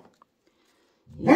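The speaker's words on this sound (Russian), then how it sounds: "Стоит мне включить камеру, начинает гавкать." A house dog lets out one sharp, close bark that breaks a near-silent room right at the end.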